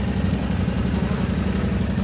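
A Yamaha Ténéré 700 motorcycle engine pulls away from the small harbour of Porto in Corsica, a steady, close, low rumble with no talk.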